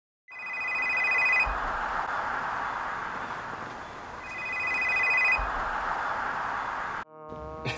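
A telephone rings in two long electronic bursts with a pause between them, loud and close against a steady broad background hiss; the rings cut off before a short burst of other noise at the end.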